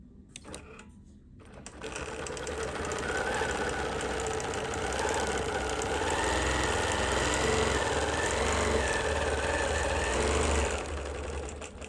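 A Bernina sewing machine fitted with an adjustable ruler work foot stitching steadily for about ten seconds, a close, continuous rapid mechanical whir and clatter that starts after a brief quiet moment.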